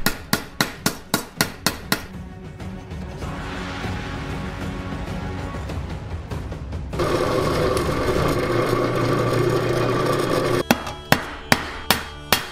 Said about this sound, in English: We're gonna hammer on this copper piece with the ball peen hammer to give it a more rough